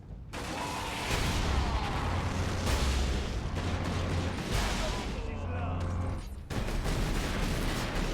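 Ork rocket launchers firing from high ground in Warhammer 40k: Space Marine, a loud, sustained barrage of blasts and explosions rolling together, briefly cutting out before resuming.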